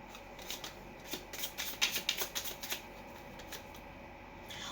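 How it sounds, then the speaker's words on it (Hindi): A deck of tarot cards is shuffled by hand in a quick run of soft, papery riffling bursts, loudest in the middle and fading toward the end, with no talking. "so a quick shuffle for Capricorn"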